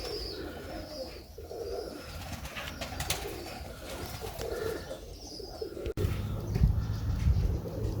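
A pigeon recovering from canker coos softly and repeatedly nearby, its low rolling calls recurring in an indoor setting, with a sudden change in background noise partway through.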